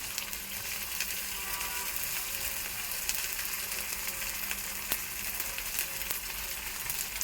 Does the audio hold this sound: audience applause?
no